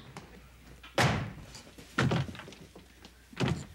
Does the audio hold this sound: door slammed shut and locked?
yes